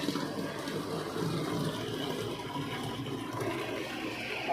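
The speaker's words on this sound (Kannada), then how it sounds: "ಈಗ ನೀರು ಭೀ ಬರ್ತೈತಿ ನೋಡಿ." Water flowing steadily from a coin-operated filtered drinking water machine, a continuous rushing pour at moderate level with no talking.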